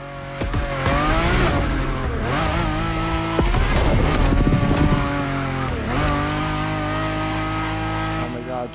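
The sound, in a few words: car sliding with tire squeal, The Crew Motorfest video game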